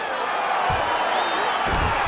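Crowd applause and cheering from a UFC 5 video game fight night fill the scene in a steady, loud wash of noise after a grappling exchange, with a couple of dull thumps.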